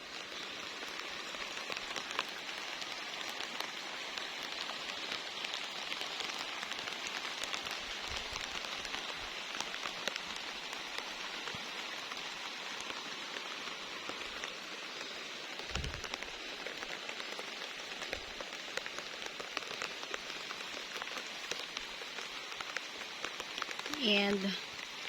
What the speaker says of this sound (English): no wind, just rain